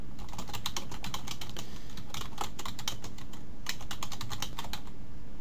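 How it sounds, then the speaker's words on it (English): Close, steady typing on a computer keyboard while a blog post is written, with rapid clustered keystrokes in bursts and brief pauses, no voices. "So I've typed a blog entry in"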